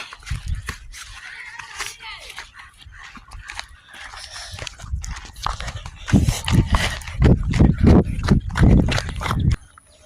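A dog barks repeatedly in sharp bursts on an outdoor ride, the barks growing louder and denser toward the end, with people talking over them.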